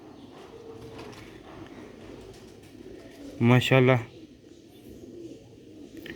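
Sialkoti rooftop-bred pigeons give a short, loud burst of throaty cooing lasting about half a second, rising above a steady background murmur, while someone talks nearby.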